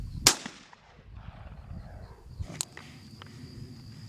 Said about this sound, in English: All right, this is going to be a 12-gauge shotgun.